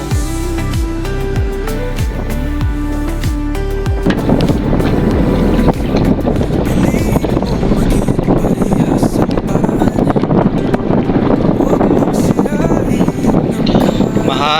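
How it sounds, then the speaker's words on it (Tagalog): Wind gusting over open sea, as heard from a small paddle-powered fishing boat on a spearfishing trip. A steady, loud broadband rush fills the clip, with music over it. "Mahangin"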